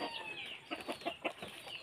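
Chickens clucking at feeding time on a farm, a few soft, short clucks at an uneven rhythm, faint and fairly close, with no talk over them.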